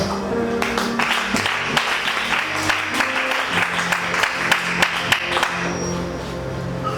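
An audience at a Gabonese religious gathering applauding, a dense wash of clapping that holds steady for several seconds before easing slightly at the end.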